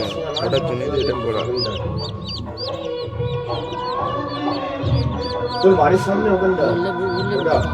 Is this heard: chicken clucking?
yes